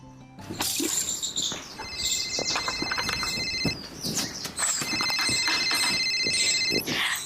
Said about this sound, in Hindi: अरे देखो तुम्हारा फोन घनघना आ रहा है